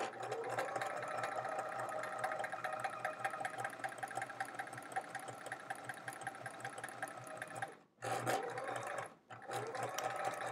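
Sewing machine stitching half-square triangles of thin, gauzy quilt fabric, a steady close whirring hum running continuously with two brief pauses near the end.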